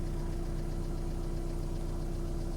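A VW Caddy camper's engine runs at a steady idle, a close, continuous low rumble with an even mechanical beat and no change in pitch or level.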